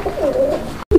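A fancy pigeon gives one close, soft coo lasting under a second, followed by a short break and then a brief restart of the call.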